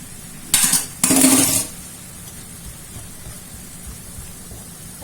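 A spoon clatters twice against a pan, two short bright metallic scrapes and clinks while shrimp paste is added, followed by quiet kitchen background.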